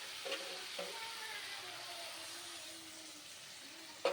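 Steady close sizzle of spiced fish and eggplant curry frying in a pan, with brief splashy bursts as a little water is poured in and the oil crackles up around it.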